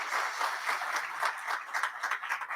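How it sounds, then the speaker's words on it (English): Steady audience applause for an honoree at a new members and high achievers ceremony, a dense wash of many hands clapping at moderate volume, alone without speech for a few seconds. "So a round of applause for him"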